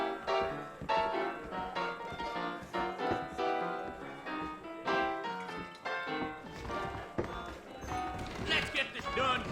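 Horse hooves clip-clop in the Red Dead Redemption video game as horses stand saddled out front, rhythmic hoof thuds mixed under spoken dialogue and background music.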